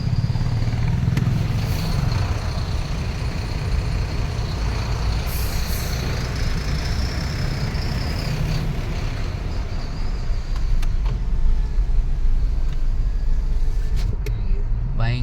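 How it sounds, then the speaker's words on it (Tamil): Heavy road traffic near Hosur rumbles continuously, with low engine drone from trucks, cars and buses, occasional hiss of air brakes and a few horn-like tones rising over the steady noise. "பயங்கர டிராஃபிக் தான்."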